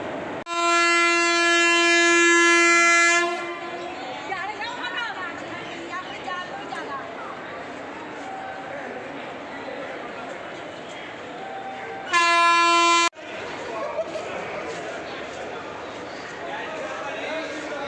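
A special train horn sounds at Amritsar railway station as the train departs, with two long, loud blasts: one of about three seconds at the start and a shorter one near the end, over steady rumbling platform noise and crowd chatter.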